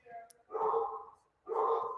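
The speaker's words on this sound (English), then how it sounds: "Sorry if you guys can hear my dog. I don't know what she's barking at." A female dog barks twice in the background during a golf livestream, each burst loud and sustained, separated by a short pause.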